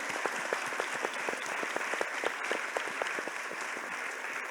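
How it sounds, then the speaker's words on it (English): Audience clapping for a panel at the close of an opening plenary session, a dense steady patter of many hands that holds evenly throughout at moderate loudness with no talk over it. "a big round of applause for our panel and for you all"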